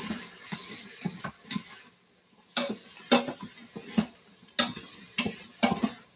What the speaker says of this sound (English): Keep stirring the onions.